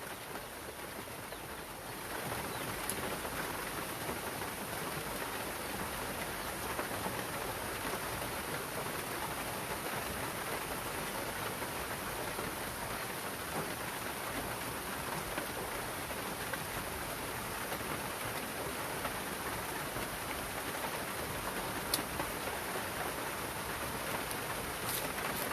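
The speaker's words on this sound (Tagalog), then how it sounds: "Ang ulan." Steady rain falls throughout, a dense, even hiss of drops on surfaces with no voices.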